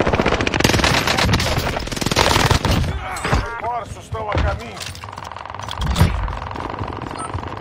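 Rapid bursts of gunfire in the video game Warzone crackle in a dense, busy mix, with chirping effects and a sharp blast near the end.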